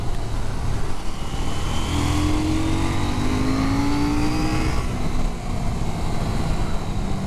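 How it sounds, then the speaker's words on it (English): A KTM 790 Duke middleweight motorcycle engine revs steadily on an open track, its rising pitch sweeping upward over a continuous loud drone before easing off, with no talking. "it's a really impressive motorcycle"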